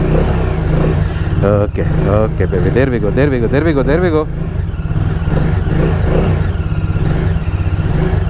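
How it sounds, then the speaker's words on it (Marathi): A Bajaj Dominar 400 motorcycle engine runs close by in Pune after sitting unused for a long time, with a steady low throbbing rumble throughout while someone talks over it. "बाईक आज खूप दिवसांनी चालू करतो आहे, इट्स रिफ्युजिंग टू स्टार्ट"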